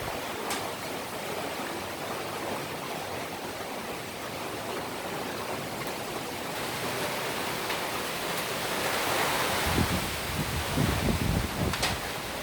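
Steady typhoon wind rushes outdoors in Laguna, Philippines, under storm signal number 1, a broad hiss that grows stronger toward the end, with occasional buffeting on the microphone.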